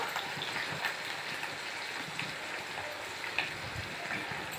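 Stuffed eggplant simmers in oil over a low flame, giving a soft, continuous sizzle and fine crackle that stays faint and even throughout, with a few slightly louder pops.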